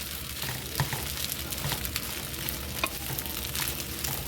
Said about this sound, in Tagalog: Ito na ang aking stir fry rice.